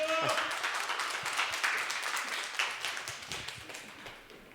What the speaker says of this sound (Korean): 큰 박수 좀 부탁드리겠습니다